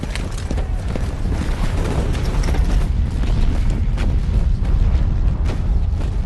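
Dense, continuous WWI artillery barrage in a war film: a steady roar of overlapping distant explosions and booms, loud and unbroken, with no clear gaps between blasts.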